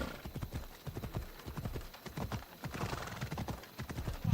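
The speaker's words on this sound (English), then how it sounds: "I forget what we got this horse for" A horse trots with brisk, even hoofbeats and gives a whinny near the end in Assassin's Creed Odyssey, close and clear over quiet game ambience.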